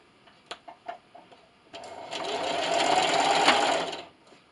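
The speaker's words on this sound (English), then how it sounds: "I'm going to start right here at this pin, backstitch, and I'm going to sew all the way around" Close-up, a sewing machine stitches around a quilted glasses sleeve, with a few light clicks of a backstitch before settling into a steady two-second whirring run that then stops.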